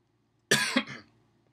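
A single close, harsh cough breaks out of near silence, a quick double burst that fades within a second, with no talking around it.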